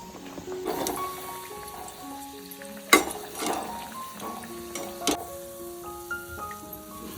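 Batata vada frying in hot oil, a steady crackling sizzle with bright clinks of a utensil against the pan scattered throughout, close and alone without talk.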